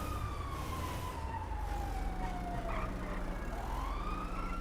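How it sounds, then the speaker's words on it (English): Police car siren wailing in a video game roleplay, a long rising and falling tone that sweeps steadily through the clip over a low engine rumble, moderately close and unbroken, with no talking. "I hear sirens again."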